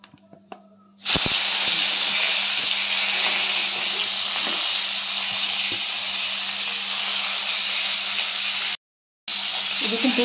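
Bitter gourd frying in hot oil in a pan, a loud, steady sizzling hiss that starts abruptly after a quiet second and runs on, broken once by a brief gap.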